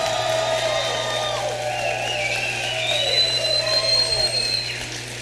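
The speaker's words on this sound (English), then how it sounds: "we need to give another round of applause to the great First Lady of Wisconsin, Tonette Walker" A large crowd at a campaign rally for Governor Scott Walker cheers and whoops for Wisconsin's First Lady, with a continuous roar of voices and rising whistles over a steady low hum, swelling then easing off.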